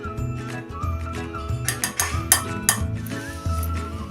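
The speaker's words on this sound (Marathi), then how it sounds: "आणि आता हे सतत हलवून हे कॉफी साखर दुधाचा चांगला आपण घोळ बनवून घेऊया।" Instant coffee being stirred into sugar and milk in a pan: close, rhythmic metallic scraping and clinking of a spoon against the pan, continuous for a few seconds with no voices.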